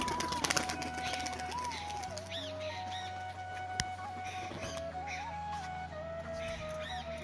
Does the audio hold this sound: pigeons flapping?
yes